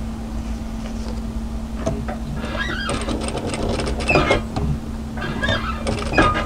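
A sewing machine stitches an apron in short runs, a close mechanical whir with rapid needle clatter over a steady low hum, pausing briefly between bursts.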